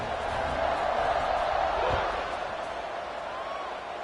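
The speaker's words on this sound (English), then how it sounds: "They're set to kick it off, and this crowd now ready to get behind them." A large football stadium crowd roars steadily at kickoff in a college game between Michigan and USC, a loud, continuous wash of cheering with a commentator speaking over it.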